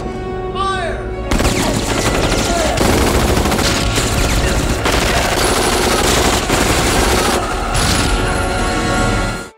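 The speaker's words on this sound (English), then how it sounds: "The moment Eve burst out, everyone opened fire directly at her." Soldiers in a film open fire with machine guns on an alien creature, a loud, dense, continuous burst of rapid gunfire that runs for about eight seconds after a short shouted cue, with booming impacts underneath.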